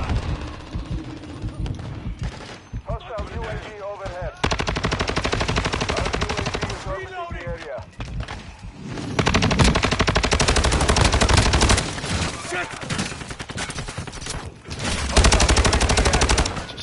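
Video game gunfire with rapid machine-gun bursts and single shots in loud clusters separated by brief lulls, close and dense, with in-game voices speaking over parts of it.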